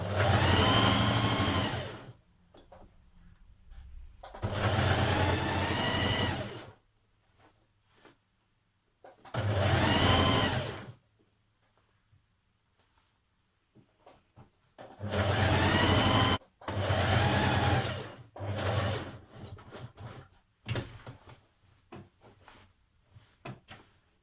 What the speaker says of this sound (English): So I'm machine stitching the bottom of mine.